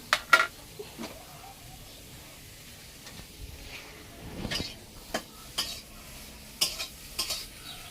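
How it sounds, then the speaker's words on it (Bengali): Garlic sizzles and fries in a pan for a village-style bhorta meal, with repeated stirring scrapes and clinks of utensil against metal, close and moderately loud over a steady hiss. "এই যে এখন রসুন ভাজা দেওয়া হইতাছে।"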